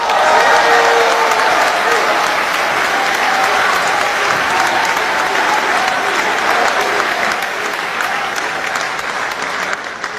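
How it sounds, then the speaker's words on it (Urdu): An audience at a mushaira poetry gathering gives sustained, dense applause that stays loud and even for around ten seconds, fading slightly near the end. "آپ سب کی بھرپور تالیوں میں تہذیب حافظ صاحب"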